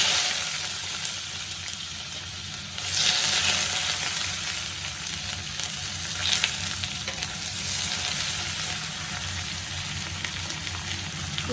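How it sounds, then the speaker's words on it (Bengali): Chopped onions fry in hot oil with dried chillies, bay leaves, cardamom and cinnamon for a red lentil chorchori, giving a steady dense sizzle with a few louder crackling surges, close up and without speech. "পেঁয়াজগুলো ভালোভাবে ভেজে নেব।"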